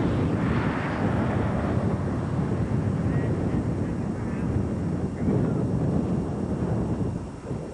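Wind gusting outdoors on a chilly November afternoon in Limestone, Maine, a loud continuous rushing buffet across the microphone throughout.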